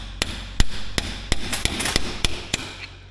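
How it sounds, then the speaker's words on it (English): A screwdriver is hammered against a lock washer on the axle nut of a 1964 Jeep CJ5 barn find: about ten sharp metallic strikes in a fairly even rhythm, close and loud. "You just take your screwdriver, you drive that thing around till it tensions."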